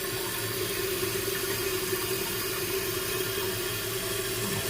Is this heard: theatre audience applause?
no